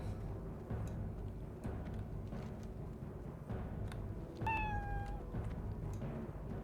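A cat called Zugcat in an orc-race gathering in World of Warcraft gives a single drawn-out meow that slides down in pitch, clear above a steady bed of game ambience and no talk.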